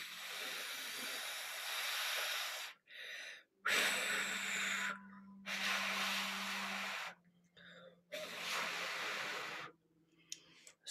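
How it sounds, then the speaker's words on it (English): Several long puffs of breath blown out through pursed lips, as if cooling a spoonful of hot soup during a flute lesson, each breathy hiss lasting one to two seconds, separated by short silences, close and fairly soft. "when I'm blowing on this imaginary spoon of mine, the air that is coming out of my mouth is very cold"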